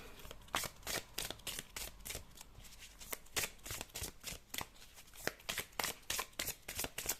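Tarot cards being shuffled and drawn by hand, a close, quiet run of crisp riffling and snapping bursts in a quick irregular rhythm.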